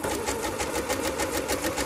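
A sewing machine stitches elastic bias binding in a fast, steady rhythmic whir with regular needle pulses, close and continuous, with no talking.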